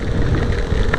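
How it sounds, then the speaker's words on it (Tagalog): Heavy rain pours in Amadeo during a typhoon, a dense, loud, steady hiss and patter of drops drumming on a surface, continuous and close with no voices. "grabe, pinaspasan kami ng ulan dito sa Amadeo."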